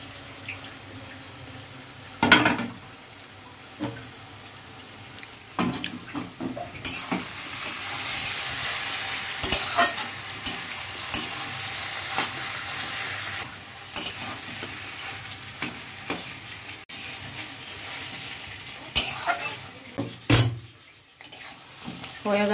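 Ash gourd curry with grated coconut stirred in a pan, a soft sizzle under intermittent spatula scrapes and knocks, heard close with a few sharper clatters.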